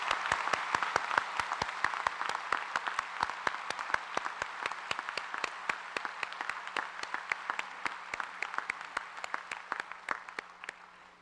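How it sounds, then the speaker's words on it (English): A round of applause at a Washington College commencement ceremony, many hands clapping in a large outdoor crowd, with sharp regular claps sustained before fading out at the end. "could you please rise so we could give you a round of applause and recognize you?"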